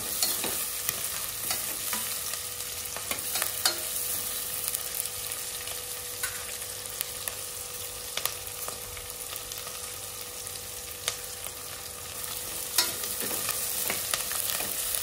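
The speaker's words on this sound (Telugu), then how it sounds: "ఆనియన్ మంచిగా కొంచెం బ్రౌన్ కలర్ వచ్చేంత వరకు ఫ్రై చేయాలి" Onions fry in a pan until browning while being cooked for kichidi, a steady soft sizzle with scattered scraping stir clicks from a utensil, fairly quiet and without talk.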